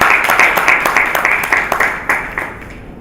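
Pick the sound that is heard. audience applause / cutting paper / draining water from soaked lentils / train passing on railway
audience applause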